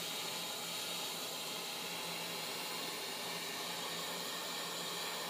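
A torch roars in a steady broadband hiss while heating 1/4 inch copper pipe for soldering ice maker tubing. It is continuous and unbroken, with no voices.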